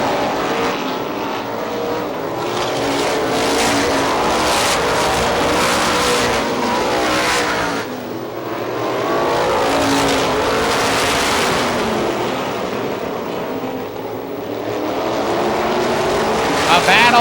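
Race cars roar around the oval at Star Speedway in New Hampshire, a loud continuous engine drone that swells and fades as the field passes, with a commentator talking over it throughout.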